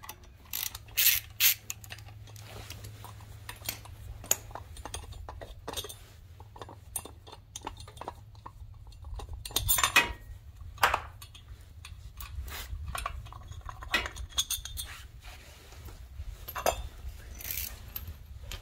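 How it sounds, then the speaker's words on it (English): Light metallic clicks and clinks of a 5mm Allen wrench loosening screws under the air filter on a Yamaha V Star 650 motorcycle, quiet, irregular, close by over a low hum. "Now on the right side, under the air filter, there'll be these 3 screws. It is a 5mm Allen wrench."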